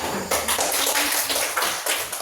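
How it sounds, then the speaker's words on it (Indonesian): Students in a maths classroom clap together in quick, loud rhythmic bursts, close and busy, lasting a couple of seconds. "Tepuk tangan dulu"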